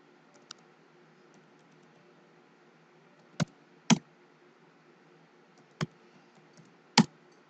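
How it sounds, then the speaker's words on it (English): A handful of sharp, isolated key clicks on a computer keyboard are spaced a second or more apart while a password is entered during a local router login, close and crisp against a quiet room. "you type his password first and foremost"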